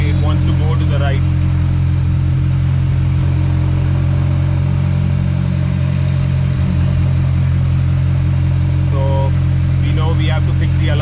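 A Fiat 118NE car engine on a test drive, a loud, steady low drone heard from inside the cabin, with brief voices near the start and end.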